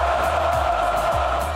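A steady roar from Flamengo football fans packed into the Maracanã stadium, a dense, continuous crowd wash that holds at the same level throughout, with no single voice standing out.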